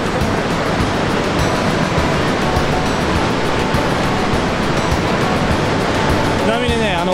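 A loud, steady roar of heavily falling water at Iguazu Falls in South America fills the whole clip, dense and unbroken, like standing close to a powerful waterfall.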